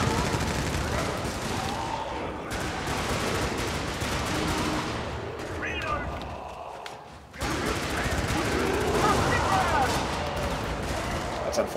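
Gunfire in a shooting video game, dense and continuous across the whole stretch, with a short lull in the middle before bursts resume loudly, under game noise.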